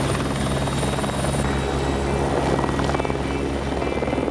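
A helicopter taking off from a spur near Saint-Paul on a French overseas island, its rotor and engine noise a loud, continuous pulsing thrum close by, with no talk.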